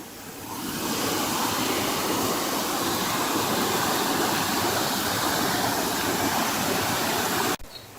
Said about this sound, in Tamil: இங்க ஒரு குட்டியா தடுப்பணை மாதிரி பண்ணி தண்ணி ஒரு ரவுண்ட் அபவுட் வேல போற மாதிரி வச்சிருக்காங்க